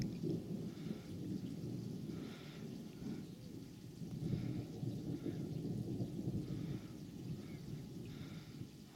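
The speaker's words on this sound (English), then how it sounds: "Huge thunderstorms going on over there." A distant thunderstorm rumbles low and steadily over a garden in high summer, with a continuous deep roll that swells and fades, mixed with a faint hiss of rain and no voices.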